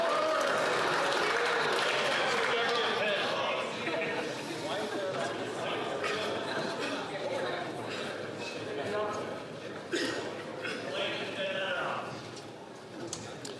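Members of the Canadian House of Commons applaud and clap loudly during a sitting. The sustained patter of many hands rolls on throughout, with a voice speaking over it.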